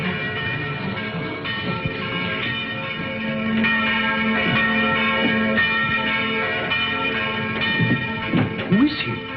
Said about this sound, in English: Did he ring the bell to say the gauntlet had come home?